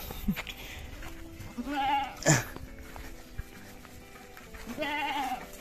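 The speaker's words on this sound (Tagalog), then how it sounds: "Kambing yan, eh" A goat bleats several times nearby on a farm where it is being fed fried peanuts, wavering cries spread across the moment, with a sharp knock between them and light background noise.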